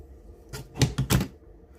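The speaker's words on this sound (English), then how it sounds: "So what I'm going to do is I'm just going to trim this edge off here." Paper or card being trimmed along the edge of a seaside frame box, giving a short run of close, crisp cutting snips or clicks over about three quarters of a second, with nobody talking.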